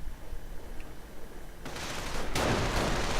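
MG42 machine gun fire in a World War II strategy video game, a dense rattling burst that swells louder partway through and carries on steadily without a break.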